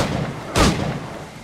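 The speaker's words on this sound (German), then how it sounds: "die schießen alle auf mich" A single heavy cannon or gunfire blast aimed at the player's ship in Assassin's Creed IV, a short broad boom rising briefly over a steady background of sea and game ambience, no voices.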